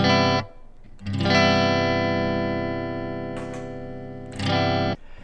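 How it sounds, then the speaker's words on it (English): Sustained electric guitar chords through a Fender Mustang GTX amp shimmer with a light chorus effect, one chord held for several seconds before a fresh strum near the end. "And I've got a chorus going on."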